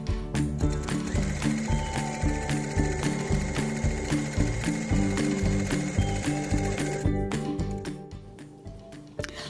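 A sewing machine stitches quilt triangles in a fast, steady mechanical rhythm of needle strokes, close and continuous for most of the clip before briefly pausing near the end.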